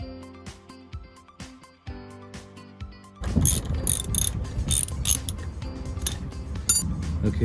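A ratchet wrench loosening a tight 17mm bolt on a fifth-generation Toyota 4Runner while fitting lower shock skids; slow clicks at first, then a denser, louder run of rapid ratcheting close by.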